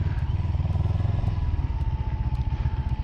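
A liquid-cooled parallel twin motorcycle engine idles close by with a steady, low, throbbing pulse and light mechanical clatter, running continuously with no voices.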